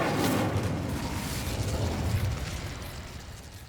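A fiery burst from the Incendio spell in Hogwarts Legacy, a dense, loud whooshing crackle of flame that rolls on steadily for a few seconds and slowly fades, with no talking over it.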